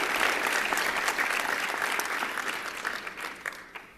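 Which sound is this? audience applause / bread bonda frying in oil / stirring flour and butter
audience applause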